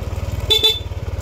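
A motorcycle's small stock horn beeps twice in quick short toots, clear and close over a steady idling engine rumble.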